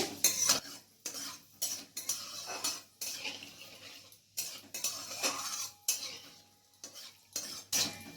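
Cloves, torn bay leaves and whole cumin fry lightly in oil for a mutton curry, a soft sizzle broken by repeated short bursts of a spoon scraping and clinking against the pan in an uneven rhythm.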